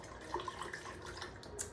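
Fresh drinking water pours into a pitcher in a home kitchen, with a light, steady trickle and splash and a sharper clatter at the end.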